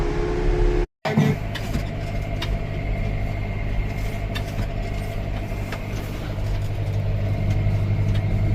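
A farm tractor loaded with about seven tons of lime drives along a road, its engine a steady, close mid-pitched rumble with road noise, briefly cut by a short dropout near the start.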